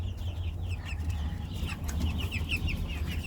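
Ross 708 broiler chickens, twelve days old, cluck and peep in a cage, a busy flock of close, overlapping calls over a low steady hum.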